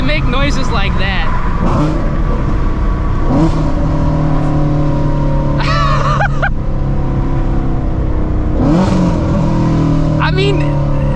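A Shelby GT350 Mustang engine rumbles loudly and steadily, with several rising revs stacked on top. Talk runs through much of the stretch.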